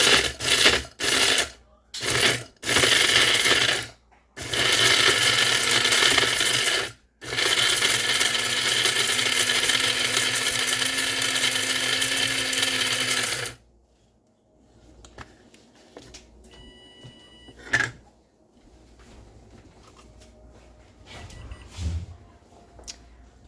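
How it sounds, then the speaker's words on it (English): A spice grinder whirs loudly through roasted dandelion roots in several stop-start bursts, one long run lasting several seconds, then cuts out, leaving quiet clicks and handling noises. "I'm putting it in my spice grinder."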